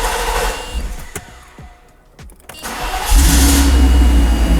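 A 36-year-old car's engine cranks and stutters, dips briefly, then catches and settles into a loud, steady running roar close by.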